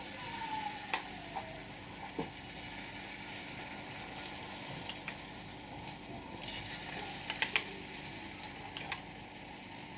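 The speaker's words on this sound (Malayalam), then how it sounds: "എന്നിട്ട് നമ്മൾ തയ്യാറാക്കി വെച്ചിട്ടുള്ള ഈ മുട്ട ഇതിലേക്ക് റൗണ്ടിലേക്ക് ഒഴിച്ചു കൊടുക്കാം" Egg poured into a pan of hot coconut oil for a bread sandwich, a faint, steady sizzle with scattered small ticks and clicks from the pan.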